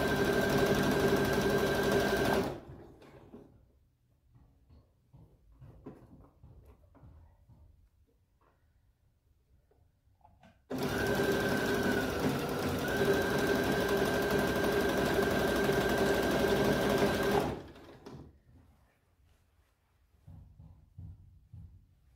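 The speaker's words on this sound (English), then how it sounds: "The machine's really pulling the fabric through." Sewing machine stitching kimono fabric, a steady mechanical whir running for two or three seconds, a pause with quiet handling, then a longer continuous seven-second run, close and clear.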